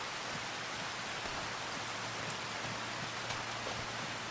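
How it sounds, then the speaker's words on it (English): Steady rain falls in the farming video game Farming Simulator 25, a constant even hiss of drops with no pauses and no talk. "But we're going to wait for the rain to stop"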